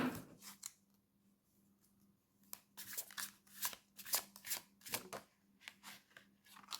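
Tarot cards being shuffled and drawn, crisp riffling bursts and quick snapping flicks in an irregular rhythm, close and fairly quiet over a faint steady hum.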